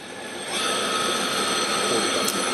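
A Citizen M-32V CNC Swiss-type lathe spins its turret-mounted live tool at 4500 RPM, giving a steady, close machine whine with a constant tonal hum over broadband mechanical noise that rises and holds throughout.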